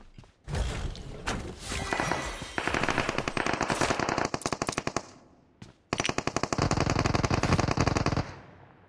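Rapid bursts of automatic gunfire from PUBG Mobile, loud and close, with dense rattling volleys, a brief pause, then another long sustained burst.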